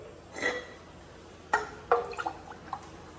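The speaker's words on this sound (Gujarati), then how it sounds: "પાણી આપું તો ચલો ગાઈસ રીતિકાને આપણે મસ્ત મજાનું પાણી આપી દઈએ" Water from an old clay pot trickling and dripping into a glass, a soft splash followed by several small, faint drips close by.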